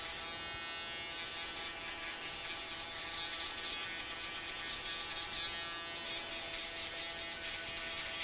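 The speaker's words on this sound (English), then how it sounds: "we're gonna go with the shaver and just kind of clean under the bottom" Electric shaver cleaning up hair at the nape during a drop fade haircut, a continuous close, steady buzzing hum with slight variations as it moves, no talk.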